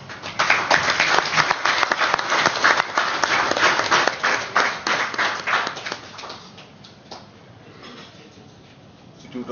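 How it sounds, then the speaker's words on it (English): An audience at an awareness programme on the 2016 Income Declaration Scheme breaks into dense, steady applause for about six seconds, then thins into scattered claps and fades over a low murmur. "May I request everybody to clap"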